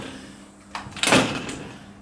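The front door of a house decorated for Christmas, with a wreath hanging on it, opens with a short click followed by a louder, brief swishing rattle, heard close with no talking.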